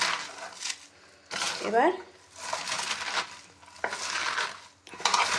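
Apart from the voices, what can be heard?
mashing food with salt by hand in a bowl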